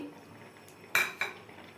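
Dried lentil dumplings (bori) drop into a cooking pan, two quick clattering hits about a quarter second apart, close and clear over a quiet kitchen background.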